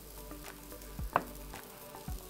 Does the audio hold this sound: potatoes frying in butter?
yes